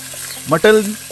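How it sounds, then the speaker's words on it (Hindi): Mutton going into hot oil with browned onions, a short burst of frying sizzle with a brief clatter, close and fairly loud. "मटन डाल के इसको इसके प्याज के साथ इसको भूनना है"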